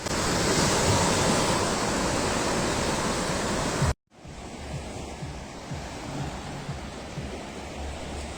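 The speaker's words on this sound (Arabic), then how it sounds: "خليكم معايا نسمع صوت البحر." Sea waves wash onto a beach in a loud continuous roar of surf, then after a brief cut the surf continues softer and more distant, with wind across the microphone.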